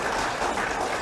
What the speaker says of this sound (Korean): 그러면 박수를 치세요.